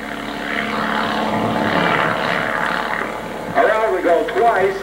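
Propeller aerobatic airplane rolling overhead at an air show, a steady droning engine with wavering pitch, heard at moderate distance while someone commentates over it.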